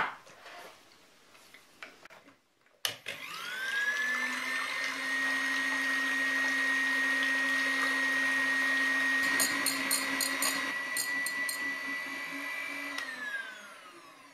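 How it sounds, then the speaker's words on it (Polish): An electric hand mixer whips egg yolks for a lemon cream, starting after a brief clatter and running as a steady, loud motor whine with a high pitch for about ten seconds before winding down. "Teraz ubiję żółtka."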